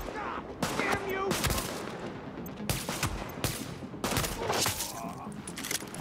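Bursts of automatic gunfire in the video game Tom Clancy's The Division, several sharp volleys separated by brief pauses, fairly close and loud, with occasional voices in the background.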